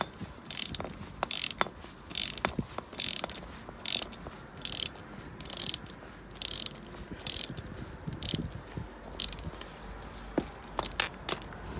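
A ratchet or cranking tool works loose the driveshaft on a Volkswagen Golf GTI Mk7 during a CV boot replacement, giving a steady run of sharp, close metallic clicks in short bursts with brief pauses, no voices.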